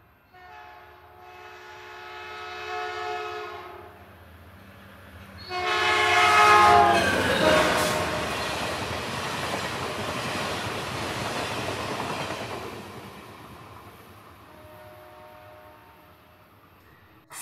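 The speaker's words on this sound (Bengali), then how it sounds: "ফার্স্ট ট্রেনের আওয়াজে ঘুম ভেঙে যায়" An early morning train passes by, sounding two long, loud horn blasts before a heavy rolling rumble of the cars continues and slowly fades.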